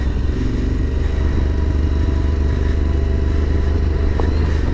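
A motorcycle ridden in first gear along a rough road in Iceland, a steady low engine drone with rattling and wind noise, held constant throughout without revving changes.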